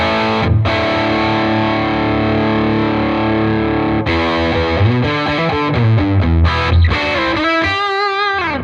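A crunchy, distorted electric guitar through a Tonex amp model rings out with sustained chords, then moves into quicker picked notes and a wavering bend at the end.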